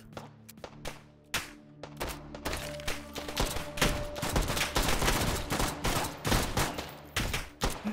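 Rapid gunfire from weapons in the VR shooter H3VR: loud, close shots in quick bursts and strings, with a few single cracks at the start before a dense run of fire.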